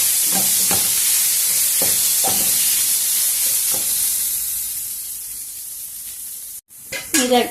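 Vegetables and spices frying in a pan for capsicum rice, a loud continuous hiss with a few stirring scrapes, dropping off sharply near the end before a brief clatter and fresh sizzle.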